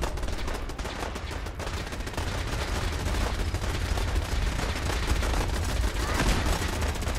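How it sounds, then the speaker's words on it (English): Sustained gunfire in Fallout 4 during a fight at Bunker Hill, a dense unbroken rattle of shots at moderate distance, constant for several seconds, with a faint voice underneath. "I don't know what all this shooting's about."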